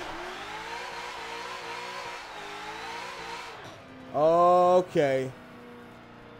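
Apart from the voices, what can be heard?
Forza 7 JTP Mustang engine revving, transmission strained, video game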